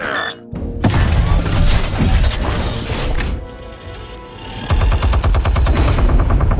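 Machine gun fire rattles in the Batman: The Telltale Series video game, loud sustained bursts with crashing impacts, dipping briefly midway before a dense rapid volley resumes.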